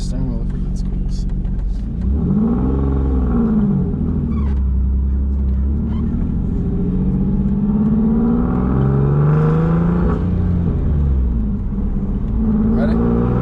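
A car accelerating hard on a low boost setting, its engine note climbing in rising sweeps and then dropping back, loud and close throughout, with people talking over it inside the cabin.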